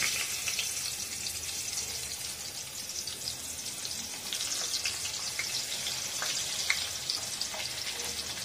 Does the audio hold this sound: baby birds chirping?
no